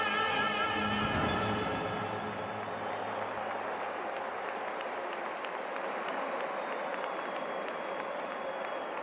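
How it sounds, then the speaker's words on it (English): Broad, sustained applause and crowd roar from a packed stadium before a Serie A football match between Napoli and Juventus, loud and steady throughout, with a brief chant-like tonal swell at the start. "If they're applauding themselves for the way this crowd have built up the atmosphere, it's merited"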